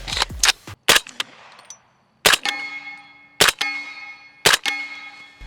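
Subsonic 220 grain rifle rounds are fired through a light titanium Sahara 300 suppressor: about five sharp, close shots spaced a second or so apart, each followed by a ringing metallic tail.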